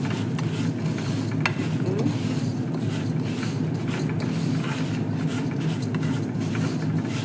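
Semiya vermicelli fries in a pan, a continuous dense crackle and rattle under steady stirring, close and even throughout, with no voices.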